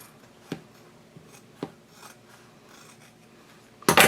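Scissors trim the seam allowance of a fabric handbag, giving two distinct close snips a second apart, soft rustling of the cloth, then a louder burst of handling noise at the end.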